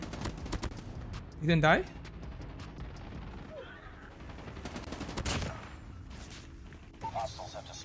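Bursts of Damascus HVK rifle fire crackle in Call of Duty Mobile, rapid repeated gunshots in short strings, fairly close, mixed with game effects and a brief spoken voice.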